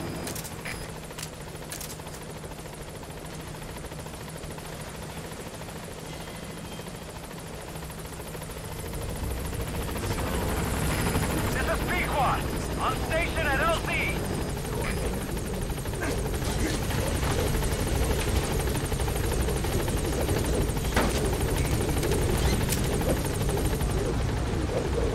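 Pequod, the support helicopter in Metal Gear Solid V, arriving at the landing zone: rotor and engine noise swells loudly after a quieter start and holds as a steady, close, heavy thrum with some scattered game effects on top.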